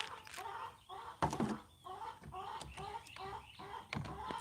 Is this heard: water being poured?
no